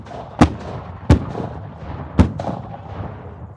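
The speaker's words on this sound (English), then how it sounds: "To hear those cannons go off" Three loud cannon blasts at a Civil War 150th-anniversary reenactment, spaced about a second apart, each booming sharply and rolling off into echo outdoors.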